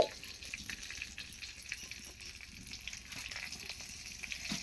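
Sliced green chillies fry in a pan over a wood fire, a soft, steady, fairly quiet sizzle with faint crackles and no talk.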